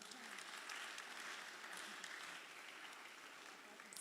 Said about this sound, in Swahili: Tuwepigie makofi wakikuja.